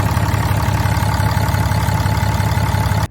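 RAM 2500 truck's 6.7L Cummins diesel running at a steady idle after an oil change, a loud close low throbbing clatter held evenly throughout and cut off abruptly at the end.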